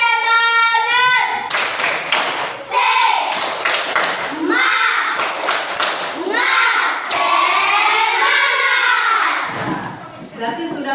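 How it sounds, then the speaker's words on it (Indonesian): Schoolchildren in a classroom lesson clap out a rhythmic spirit chant, bursts of sharp hand claps in patterned groups, close and loud, mixed with their shouted voices. "Ayo sekali lagi tepuk semangat."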